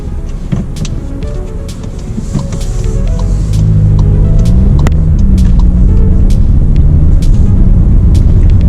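A 2021 Volkswagen T-Roc's 1.5-litre turbocharged petrol engine starts and settles into a low, steady hum as the car pulls away, with faint clicks and road noise inside the cabin.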